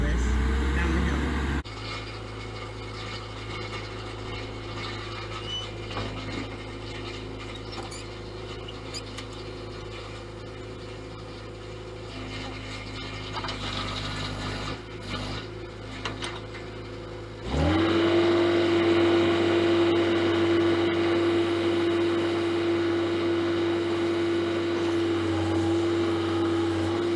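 A backhoe's diesel engine drones steadily while it works on a steep hillside during a septic line install with infiltrator chambers. The rumble grows noticeably louder and higher partway through and then holds at a strong, even roar.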